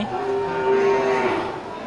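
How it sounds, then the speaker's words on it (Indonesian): A female Bali cow moos in one long, loud, drawn-out call, with low farm background noise. "ini sapi Bali betina ya."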